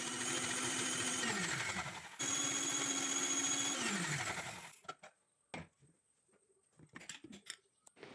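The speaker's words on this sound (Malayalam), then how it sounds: "അടച്ച് വെച്ച് കറണ്ട് ഓൺ ചെയ്തിട്ട് 1-2 പ്രാവശ്യം മിക്സിയിൽ അടിച്ചെടുക്കണം" A mixer grinder whirs loudly with water in its jar to clean it, in two bursts of running and winding down, followed by quiet with scattered clicks and knocks as the jar is handled.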